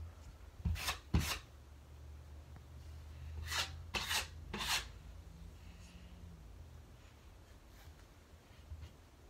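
Drywall joint compound scraped off a putty knife while prepping a room for paint: a few short, sharp rasping scrapes in two quick clusters near the start and middle, close and fairly quiet, with no talk.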